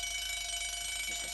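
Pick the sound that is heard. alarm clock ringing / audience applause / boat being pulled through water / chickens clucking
alarm clock ringing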